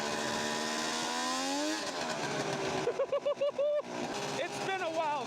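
A loud motorcycle engine revs with a rising pitch, then fires off a quick series of sharp throttle blips before settling into a rough, steady idle.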